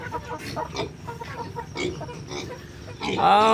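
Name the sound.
chickens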